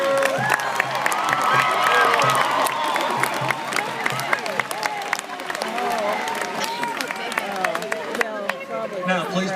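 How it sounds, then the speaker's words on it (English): A large crowd at a college commencement ceremony applauds graduates' families and friends, dense clapping mixed with cheers, whoops and shouted voices, loud and sustained for nearly ten seconds before thinning out. "Give your family and friends who supported you a huge round of applause."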